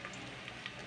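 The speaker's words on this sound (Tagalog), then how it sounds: "Pag mainit na ang mantika, ilalagay muna natin ang luya." Ginger pieces dropped into hot cooking oil for sautéed sardines with pechay, giving a steady soft sizzle close by, with a few brighter crackles standing out from the constant hiss.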